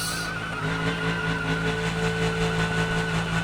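A steady, high-pitched engine whine from a racing game holds on continuously, with a faint rising tone underneath and no speech.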